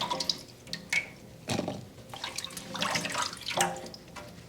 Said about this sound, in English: Because you're supposed to put in enough water to cover